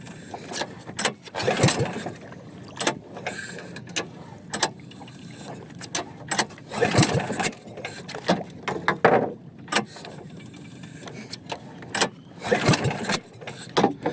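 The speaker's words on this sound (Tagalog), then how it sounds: "Ay naku, napakahirap po hilain ng makina na to." Repeated sharp pulls on a starter cord, each a brief rasping burst, as an 18 HP boat engine sputters and tries to catch, with pauses between attempts.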